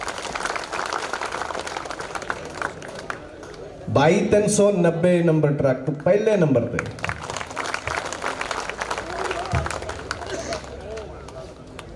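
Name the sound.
crowd applause at trucking show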